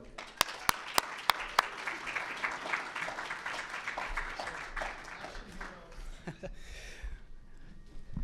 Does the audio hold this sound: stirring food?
no